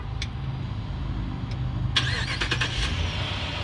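A 2013 Dodge Durango started by remote start: a steady idle rumble with a brief squeal and a burst of starter and ignition noise near the two-second mark, close and loud, with no talking.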